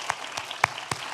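Scattered applause at a university alumni awards evening, greeting a nominee: about four distinct, fairly faint claps spread across a second, with no voices over them.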